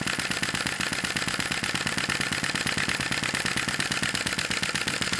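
A Sai Hu V1-45 vacuum engine runs hot and steady, a rapid continuous mechanical chatter of even firing pulses. It is close and loud throughout, with no voices.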